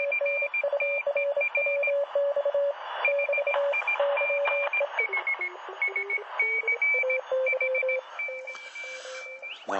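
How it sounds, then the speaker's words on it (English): Steady Morse code tones keyed on and off in dots and dashes, with a second overlapping tone and radio hiss underneath, no talking. "You hear another CW signal competing with this one, but that's normal."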